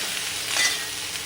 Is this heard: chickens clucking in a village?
no